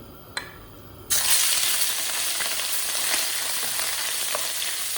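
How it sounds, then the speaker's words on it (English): Shrimp hit hot homemade spicy oil in a pan and burst into a loud, steady sizzle after a quiet second, with a small clink near the start and faint stirring scrapes throughout. "First, let's fry the shrimp."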